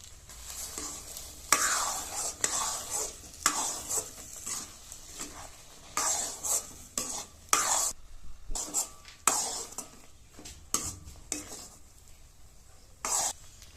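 Thickened milk goes into semolina halwa with nuts frying in a pan, bringing soft sizzling and repeated scraping stirs in irregular bursts at close range, with occasional faint coughs.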